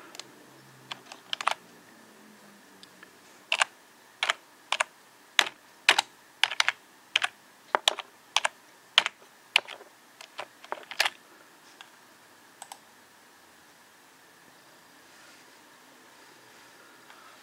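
Keys on a computer keyboard clatter in short, crisp bursts as a username and password are entered, with sharp separate strokes, brief gaps between clusters and a quiet room otherwise.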